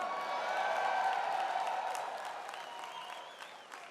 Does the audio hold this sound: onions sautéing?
no